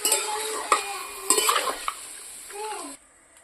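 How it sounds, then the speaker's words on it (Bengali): A spoon stirring chicken curry with potatoes and turmeric in a pan, scraping and clinking against the metal in irregular strokes under a light sizzle, close and fairly loud, then stopping abruptly near the end. "একটু নাড়িয়ে নেব"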